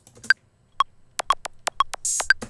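A pitched-up kick drum made with the Serum synth plays a weird, uneven rhythm with a metronome clicking alongside, a sparse run of sharp, close hits in a melodic house production.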